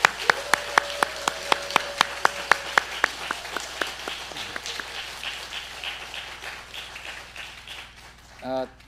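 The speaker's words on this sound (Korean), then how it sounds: "큰 박수로 우리 환영해 주셨으면 좋겠습니다." A church congregation at a Korean Sunday worship service claps to welcome an elder, sharp hand claps falling in a steady rhythm before thinning out, with voices speaking over the tail.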